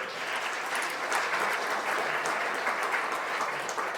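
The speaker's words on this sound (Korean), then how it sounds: "고맙다고 박수 한번 쳐드립니다" Sustained applause from the audience at a shared-growth forum, a dense uniform clatter of many hands clapping that holds steady from start to finish with no speech over it.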